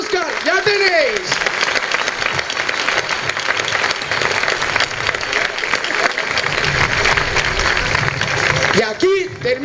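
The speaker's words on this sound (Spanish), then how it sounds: "Los gaiteros de Tudela, fuerte aplauso os merecéis." Loud, sustained applause from a large crowd at the Paloteado de San Juan festival in Tudela, honoring the Tudela bagpipers, continuous clapping that fades out near the end.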